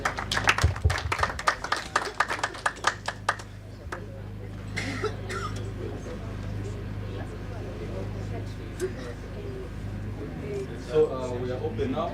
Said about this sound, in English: let's give a round of applause to Dana Arashi.